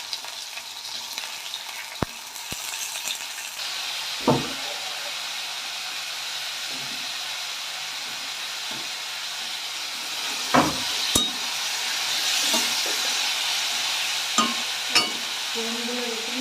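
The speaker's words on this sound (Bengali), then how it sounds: "সব সবজিগুলোকে এখন কড়াইয়ে ভাজা হবে" Vegetables frying in a kadai for navratan korma, a steady soft sizzle with occasional sharp clinks and scrapes of a spatula stirring, no talking.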